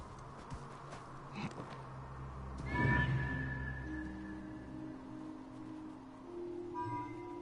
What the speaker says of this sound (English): Thought that was my horse.